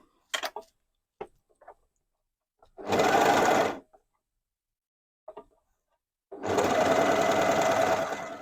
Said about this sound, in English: then I'm going to overlock the other top of the shoulder